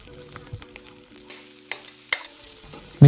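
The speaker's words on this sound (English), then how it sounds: "Scrambling the eggs vigorously." Eggs are scrambled vigorously in a frying pan for egg fried rice: faint scattered taps and a soft sizzle, then a sharp loud clatter at the very end.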